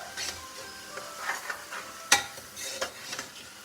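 Khichdi is mixed in a pan with quick scraping strokes of a spoon over a faint sizzle, and one sharp metallic clink stands out midway, close and with no talking.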